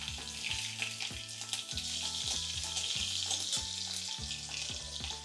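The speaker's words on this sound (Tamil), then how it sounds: "கடுகு வெடிக்கட்டும்" Mustard seeds and chopped green chili sizzle and crackle steadily in hot oil, loud and close, with faint clinks of utensils and no talking.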